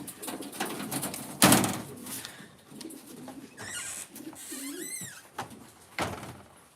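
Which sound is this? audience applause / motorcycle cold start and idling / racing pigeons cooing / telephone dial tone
racing pigeons cooing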